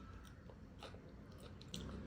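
Someone bites and chews a baked healthy fry-style snack close to the mic, with soft crunches scattered over a quiet background and a louder crunch near the end.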